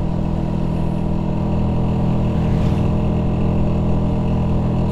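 A Vespa PS scooter runs on the road with a steady, loud, close engine drone and wind rush, holding an even pitch without letup.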